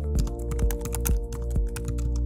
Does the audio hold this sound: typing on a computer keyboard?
yes